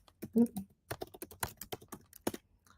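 Rapid plastic clicks of typing on a computer keyboard patter close by in uneven bursts, with a brief vocal sound near the start.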